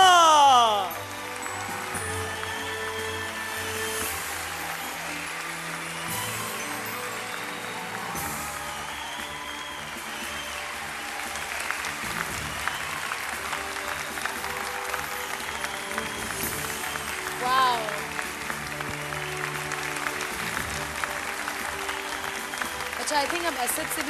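A studio audience applauds the winner at the grand finale of a Pakistani singing competition, with sustained clapping mixed under music and a presenter's voice.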